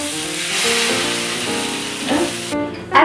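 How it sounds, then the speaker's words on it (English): French toast sizzling on a hot skillet at medium heat, a steady close frying hiss with a soft hum underneath that ends in a brief louder clatter. "And then all you do is just place it onto your skillet. You'll hear it sizzle."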